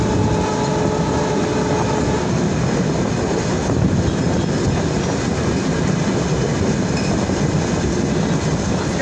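806 Chilahati Express passenger train in Bangladesh running at speed, hauled by a 6612 locomotive: a continuous dense roar of wheels and carriage rumble with faint clickety-clack, steady and loud throughout.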